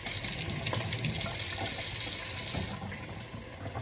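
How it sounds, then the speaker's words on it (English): Steady running water from a kitchen tap rinses raw chicken being prepared for homemade chicken noodle soup, a continuous broadband splashing gush that stays fairly loud and close throughout, with no talking. "You're going to hear the water a lot because I rinse this and wash this a lot."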